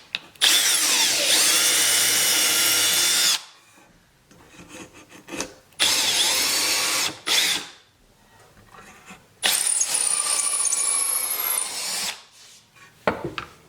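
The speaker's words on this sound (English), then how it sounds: "I'm going to just drill these." Power drill boring holes through cedar boards for a deck table, in three long loud whining bursts separated by short pauses and clunks, close by with no talk.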